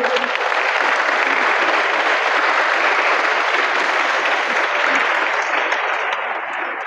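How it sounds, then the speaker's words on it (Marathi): An audience at a youth work-training scheme fair applauds to welcome a bank's representatives, a thick, even wash of many hands clapping that holds steady and then begins to thin at the end. "त्यांचंही आपण टाळ्या वाजवून स्वागत करूया"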